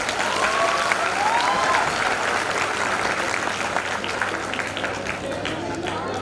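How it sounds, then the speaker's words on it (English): Sustained, dense applause rolls through an audience at a live brainstorming session, steady and full for several seconds before easing slightly. "So give a huge round of applause once again for each one of us."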